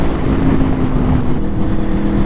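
2021 Aprilia Tuono motorcycle engine under acceleration: a loud, continuous rough roar with heavy wind noise, close and steady throughout with no talking.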